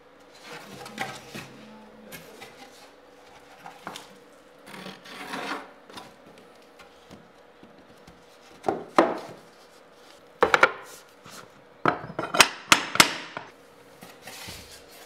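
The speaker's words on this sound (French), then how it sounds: "Puis, tu les relis à celles précédentes avec un marteau et une cale à frapper." Hammer driving a tapping block against snap-together laminate floor planks during installation, giving a series of sharp knocks that grow denser toward the end, with scraping and shuffling between the blows.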